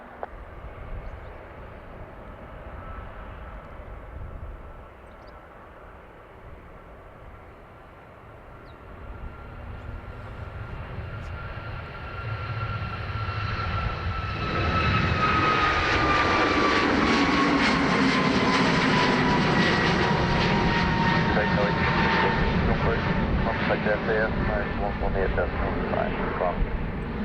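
Aer Lingus Airbus A321XLR jet taking off at Dublin Airport, its engine roar swelling from a distant rumble into a loud, sustained broadband thrust with a rising whine, while a radio voice and nearby talk continue underneath.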